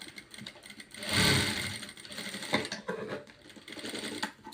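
A sewing machine runs briefly and steadily, stitching folded scrap fabric for a hair band. It is moderately loud and stands alone with no talk, then gives way to quieter handling and small mechanical clicks.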